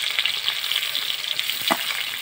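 Capsicum fries in a generous amount of mustard oil in a pan, giving a continuous dense sizzle, close and fairly loud, with a faint stirring scrape near the end.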